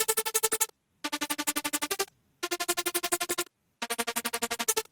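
A buzzy, distorted synth lead layer in a Dariacore track plays four short bursts of rapid pulsing notes, each phrase separated by a brief silence.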